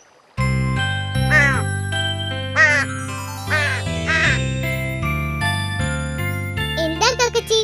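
A cartoon duck quacks several times in an animated children's story, its nasal calls popping over a bright jingling music backing, loud and close.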